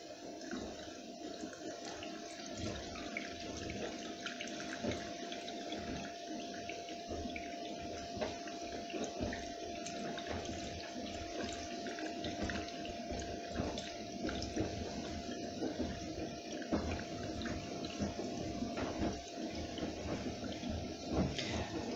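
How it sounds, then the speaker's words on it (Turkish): Water poured from a bottle into a washing tub during a bedding wash, a steady splashing, gurgling stream with dripping and bubbling that runs continuously and close for over twenty seconds. "Şimdi şelaleden su aktaralım manuel jet."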